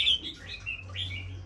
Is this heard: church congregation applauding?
no